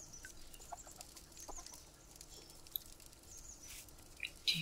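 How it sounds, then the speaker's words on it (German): Chickens cluck softly and intermittently in a medieval town alleyway in a Ken Follett video game set in Winchester, with faint scattered clucks over a quiet ambient background. "Hühner?"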